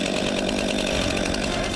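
A chainsaw runs during a beginner's forestry safety training in the woods, giving a loud, steady, continuous buzzing roar close by.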